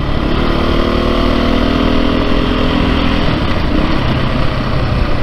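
A 2022 Beta 430 RR-S dirt bike rides along smooth asphalt, its engine humming steadily and close with slight pitch changes under constant wind noise, no talk.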